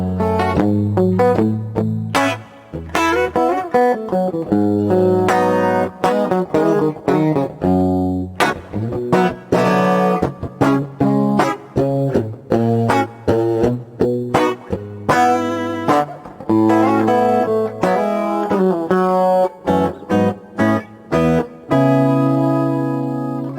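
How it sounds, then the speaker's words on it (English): Clean electric guitar through a Universal Audio guitar studio setup with multi-chorus, plate reverb and studio EQ, playing a steady run of picked chords and notes with shimmering sustain, loud and close with no talk. "So I got a little plate reverb and a little studio EQ to give my guitar a little pop."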